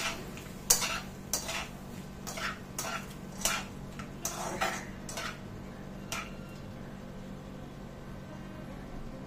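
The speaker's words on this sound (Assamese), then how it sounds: "দি গোটেইখিনি আকৌ অলপ লৰাই দিছোঁ" Vegetables stirred in a cooking pan with a utensil, giving a series of sharp metallic scrapes and clinks at an uneven rhythm over a low steady background hum, fairly close but not loud.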